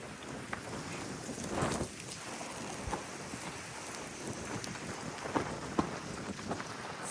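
Steady wind buffets the microphone outside a hospital, a rough rushing noise with occasional gusts and thumps, no voices.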